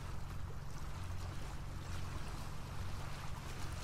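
Boat motor running steadily in the video game Uncharted 4, a constant low drone beneath wind and water noise, loud and unbroken with no speech.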